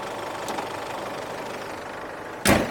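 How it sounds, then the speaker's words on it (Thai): A 2007 Chevrolet Colorado 2.5 LS engine idles with an even, rumbling beat, close by, and a sudden loud burst cuts in near the end. "เดี๋ยวสตาร์ทใหม่ให้ดูนะครับ นี่นะครับ ทีเดียวติดเลยนะครับรถคันนี้เครื่องดีมากนะครับ"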